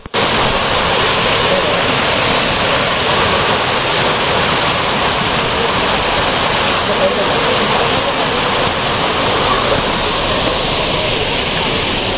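Water flowing out of the forest on Bababudangiri hill in Chikmagalur, with only a low flow, gives a steady, loud, unbroken rushing hiss that fills the whole clip, with no other sound standing out.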